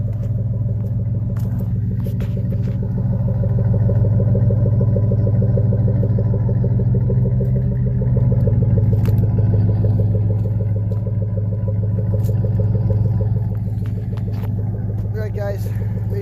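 A Chevrolet Silverado engine idles after a cold start at 8 degrees, giving a steady, loud, rumbling drone with a faint rhythmic clatter that runs throughout.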